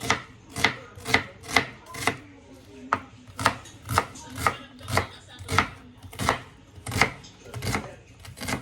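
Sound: chopping onion

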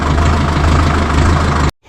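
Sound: tractor engine idling

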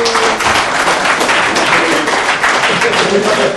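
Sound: applause at a karting awards ceremony

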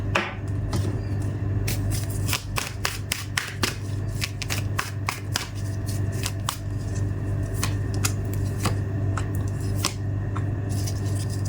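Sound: tarot cards being shuffled and laid out

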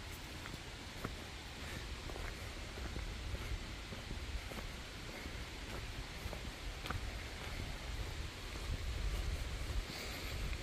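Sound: waterfall at McConnells Mill State Park

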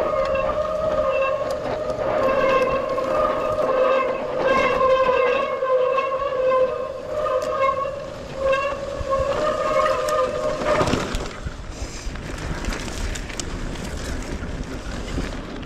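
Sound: wind blowing

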